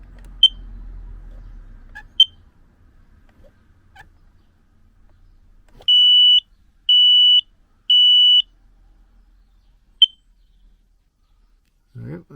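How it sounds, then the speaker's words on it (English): High-pitched alarm chirps from a campervan smoke alarm under test, then three long, loud beeps in a steady pattern, followed by another single chirp in a quiet room. "And then smoke alarm."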